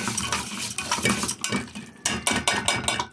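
A utensil scrapes and clinks against a metal pot while vermicelli is stirred with ghee and oil, giving irregular close-up knocks and scrapes with brief pauses.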